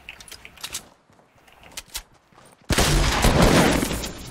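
Sniper gunfire in the Fortnite battle royale game: a sudden loud shot partway through followed by a sustained bright burst of noise, preceded by quieter clicks and scattered game sounds.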